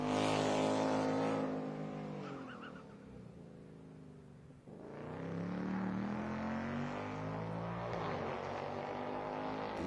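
Silver race car in a celebrity pro-am race at Ten Tenths Motor Club roars along the track, engine loud at first, easing off, then surging back with a strong steady drone.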